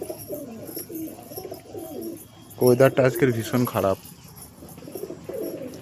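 Pigeons coo in a home loft on a gloomy, bad-weather day, with a burst of loud, close, rolling coos in the middle while someone talks before and after it.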